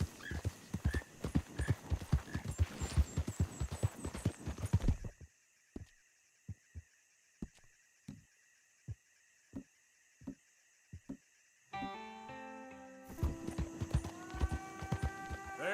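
Horse hooves clattering at a fast gallop in Red Dead Redemption 2, dense rapid clip-clop that breaks into slower spaced steps, followed by a whinny and tonal music near the end.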